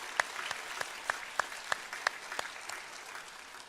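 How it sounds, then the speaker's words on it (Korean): A church congregation claps at a Sunday worship service to welcome newcomers, with distinct hand claps ringing out over a soft, steady patter of applause that thins toward the end. "박수로 환영합니다"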